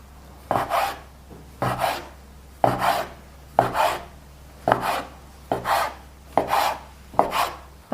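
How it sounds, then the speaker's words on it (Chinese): A knife cuts a floured dough log into equal pieces on a wooden board, making eight evenly spaced chops with soft scraping, close and clear against a quiet background. "切成均等大小的面剂"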